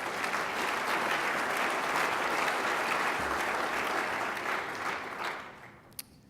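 An audience at a Colorado State University gala claps in a dense, sustained round of applause that holds steady, then thins and fades out at the end.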